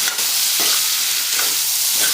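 Tomato masala for a bottle gourd curry fries steadily in oil, a loud continuous sizzle with a few soft stirring scrapes, no voices.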